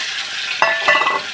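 Marinated chicken pieces dropped into hot oil for egg chicken chow mein, a quiet hiss that jumps into a sharp, crackling sizzle midway and keeps spitting up close.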